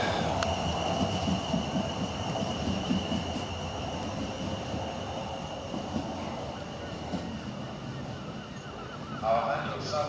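A South Western Railway Class 450 electric train departs Fratton station, its steady rumble and wheel noise filling the scene at close range, with a faint tonal whine and a voice talking over it.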